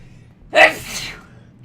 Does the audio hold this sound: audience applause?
no